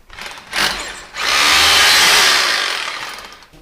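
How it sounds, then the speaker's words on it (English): Power drill whirring as it bores a hole through a blockage in a small opening, a short burst then a longer sustained loud grind of about two seconds, close to the microphone. "So we've opened the hole a bit with the drill bit again"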